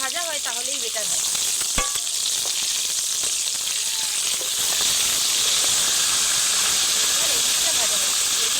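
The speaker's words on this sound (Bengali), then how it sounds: "এই বড় মাথাটাকে আরও কিছুক্ষণ ভাজতে হবে, আর ভাজতে গিয়ে একটু ভেঙেও যাবে" Fish head frying in oil for muri ghonto, a Bengali rice and fish-head dish, gives a loud, steady sizzling hiss that holds throughout, with a voice heard briefly at the start.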